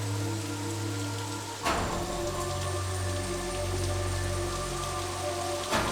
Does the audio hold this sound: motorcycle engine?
no